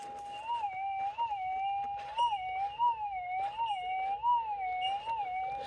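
Metal detector sweeping over a target in a small gully in jungle country gives a steady warbling electronic tone that rises and dips in a repeating wavy pattern, clear and continuous with faint background hum.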